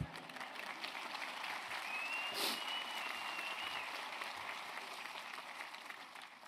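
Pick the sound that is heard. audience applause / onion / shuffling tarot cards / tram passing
audience applause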